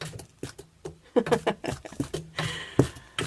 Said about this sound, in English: And that is the sound of her tail banging,